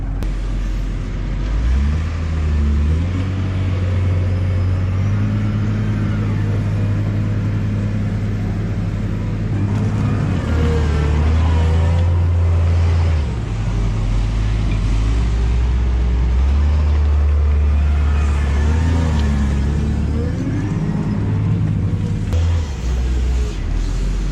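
A loader scrapes wet manure muck across the ground and tosses it into a wagon, a steady rumbling diesel engine with rising revs and scraping bursts, close and continuous.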